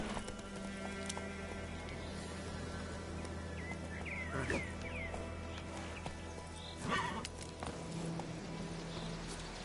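Horse hooves clip-clop steadily in The Witcher 3 over a constant game ambience with a low drone, with a brief whinny-like flourish partway through and no talking.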